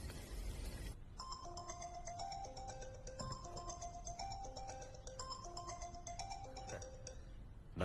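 A mobile phone rings with an incoming call, a melodic electronic ringtone of repeating chime-like notes playing steadily and fairly quietly after a brief noisy opening.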